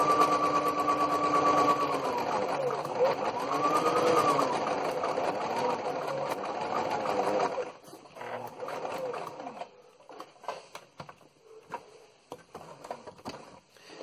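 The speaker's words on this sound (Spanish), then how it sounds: "Y entonces ahí despacio empiezo a avanzar y sigo cosiendo hasta la siguiente marca que hice." Close, steady whirring hum of a straight-stitch sewing machine sewing a fabric machine cover, running continuously for several seconds, then slowing into short, irregular stitching bursts with small mechanical clicks.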